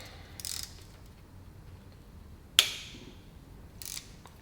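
Ratchet wrench cracking loose 3/8 bolts around the thermostat housing of a Johnson/Evinrude outboard motor: a few brief ratcheting bursts and one sharp crack as a bolt breaks free, close and fairly quiet, with no talking.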